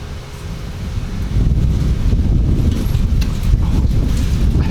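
Strong outdoor wind gusts buffet the microphone with a loud, low rumbling roar that swells and stays steady, with no talking.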